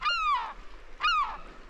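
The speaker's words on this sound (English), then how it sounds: "there's plenty of seagulls" Seagulls on west coast cliffs give two sharp, nasal calls about a second apart, moderately near and with no talk.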